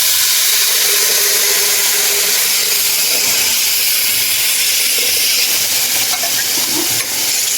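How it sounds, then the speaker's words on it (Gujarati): Cumin and mustard seeds sizzle in hot oil for tempering, a steady loud close hiss throughout with faint crackles toward the end. "થોડું જીરું થોડી રાઈ પછી આપણે આ વઘાણી નાખશું પછી હળદર નાખશું"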